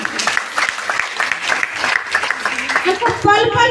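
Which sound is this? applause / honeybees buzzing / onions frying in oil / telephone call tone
applause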